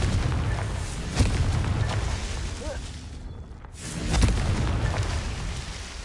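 Explosive Confringo spell blasts in the Hogwarts Legacy video game, a loud dense rumble of booms that swells again near the end, with no talking over it.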